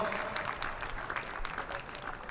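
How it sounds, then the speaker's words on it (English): A crowd at a Bowls for Brisbane exhibition match claps for the winning lawn bowls coach, a soft, steady patter of applause heard from a distance. "Round of applause, Gary Willis, the winning coach tonight"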